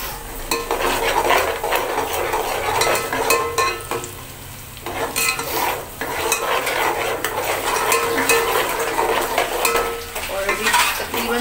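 Onion and tomato paste frying and being stirred in a pot, a steady close sizzle with scraping spoon and clinking utensil hits throughout, briefly quieter midway, no talking.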